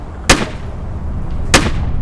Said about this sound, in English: dodging the pirates' gunfire